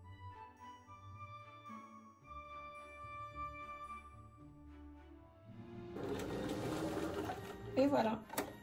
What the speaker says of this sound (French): on va enfiler la machine en rouge et on va coudre les deux galons rouges